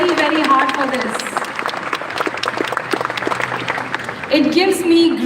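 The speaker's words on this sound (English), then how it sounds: "Please make sure that you give thunderous round of applause because they have worked very, very hard for this." A school audience at St. John the Baptist High School's annual function breaks into steady, dense applause that fills the hall, with a voice speaking briefly at the start and end.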